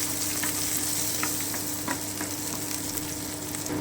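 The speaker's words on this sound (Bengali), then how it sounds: "আমি একটুখানি ফ্রাই করে নিচ্ছি" Cashews and almonds fry in a pan with a steady, close crackling sizzle and occasional light pops, continuous throughout with no voices.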